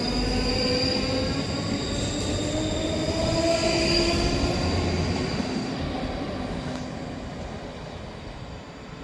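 A Scotrail train with unit 334035 on the rear departs Edinburgh Gateway, its wheels rumbling and faintly squealing along the rails in a steady roar that slowly fades as it pulls away.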